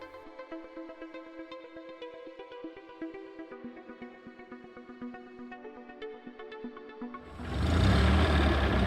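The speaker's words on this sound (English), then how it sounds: "sports car," Soft plucked music plays alone until a sports car engine bursts in near the end, loud and close with a broad roaring rush.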